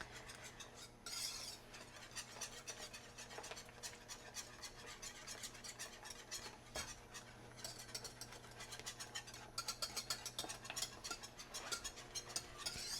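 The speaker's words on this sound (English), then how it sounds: "I don't want to stop whisking yet" Egg whites and oats whisked in a bowl, a fast continuous metallic ticking of the whisk against the side, fairly faint and steady, with no talking.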